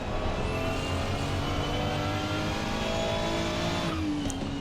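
Ferrari 296 race car at full throttle on the Nordschleife in Assetto Corsa Competizione, a loud sustained engine note climbing steadily in pitch, then briefly dropping near the end, close and alone without speech.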